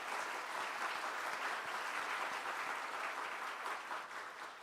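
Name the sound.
applause of encouragement in church service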